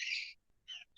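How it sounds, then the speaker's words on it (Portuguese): Pet birds kept indoors chirp in a series of short, bright, high calls, with one longer burst followed by two shorter ones after brief gaps, fairly faint and with no voices. "Não tem como silenciar os passarinhos"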